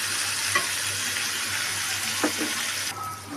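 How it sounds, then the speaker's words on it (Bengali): Okra frying in a pan makes a loud, constant sizzle with a few faint clinks of stirring, close by with no talking; the sizzle drops away sharply near the end. "দেখো আমার ভেন্ডি ভাজা হয়ে গেছে, কত সুন্দর করে ভাজি করেছি।"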